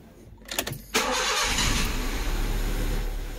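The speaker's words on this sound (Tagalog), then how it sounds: "Start natin sa sasakyan and then papakita ko sa inyo" A Honda Civic's starter cranks briefly, then the engine catches and settles into a loud, steady idle close by.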